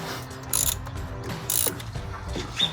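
A ratchet on an extension clicks in short rapid bursts while loosening an iridium spark plug on a HEMI Charger, the pawl ticking close and distinct with brief pauses between strokes.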